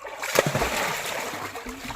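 A splash in a farm pond as someone dives in, a sharp burst of water near the start followed by sloshing and churning water, with excited voices around it.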